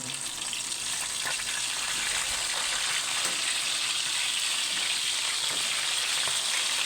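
Milkfish (bangus) frying in a pan, a loud continuous sizzle and crackle that stays steady throughout with no voices.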